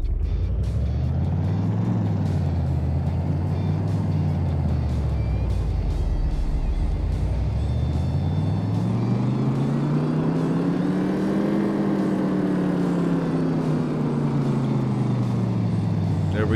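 A 1977 Holden Torana engine on a dyno in Car Mechanic Simulator 2018 revs loudly, rising and falling in pitch in two long sweeping pulls, with a steady engine drone throughout.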